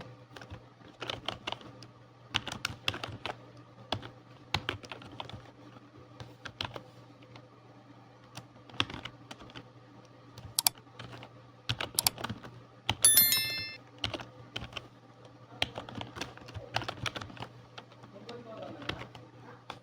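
Typing on a computer keyboard, bursts of rapid close key clicks separated by short pauses, with a steady low hum underneath, a brief bell-like ping midway, and a voice speaking at times.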